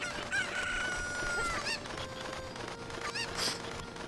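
A cucco crows repeatedly in the Ocarina of Time video game, a shrill rising cock-a-doodle-doo call sounding several times over a steady background of game music and ambience.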